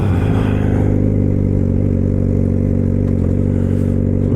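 A motorcycle accelerates hard in New York morning rush-hour traffic with little traction, its mid-pitched engine revving loud and close with a rough clattering edge throughout.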